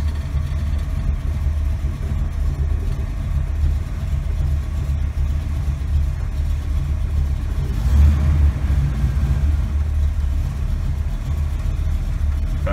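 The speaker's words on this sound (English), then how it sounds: "So we'll back it out of here and" A Chevrolet Impala that needs a new engine runs steadily at close range as it backs out, a continuous low idle with a slight rise in engine note partway through and no talk.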